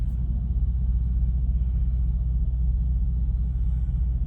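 Truck backing into a parking spot beside another rig at a loading area, a heavy low diesel rumble that holds steady and close throughout, with no talk over it.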